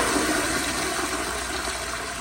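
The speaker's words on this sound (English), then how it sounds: "here's the flush" An American Standard Yorkville toilet from 2012 flushes in a steady, loud rush of water that fills the whole moment with no voices over it.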